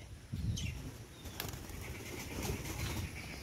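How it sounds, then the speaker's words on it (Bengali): Quiet, brief flutters of a pair of doves flapping their wings nearby, a few soft bursts over low background noise. "এক জোড়া ঘুঘু ঢুকেছে"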